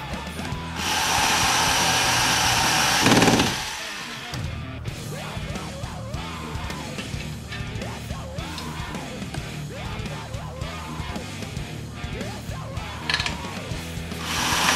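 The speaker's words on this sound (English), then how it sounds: "We're going to drill one of the holes and snap it there with the screw" A power drill whirs loudly for about three seconds while a screw is driven into a wall to mount a skateboard rack, followed by clattering, handling noises and brief tool bursts.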